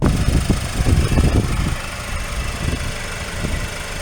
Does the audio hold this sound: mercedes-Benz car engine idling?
yes